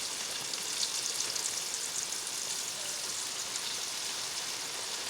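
Pork chops browning in a hot frying pan give off a steady, dense sizzle and crackle, close and even throughout, with no talking.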